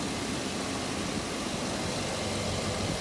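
A Chevrolet Suburban engine runs steadily after a jump start from a second Suburban, with its alternator not charging. The idle is a continuous, even drone and hum, close and alone, with no voices.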